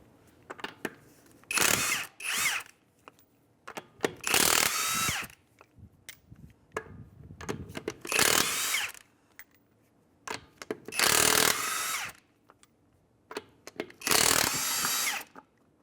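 An impact-style power tool spins off 21 mm lug nuts on a Mazda CX-9 front wheel in five separate loud bursts, each roughly a second long, separated by quiet pauses with small clicks and handling noises.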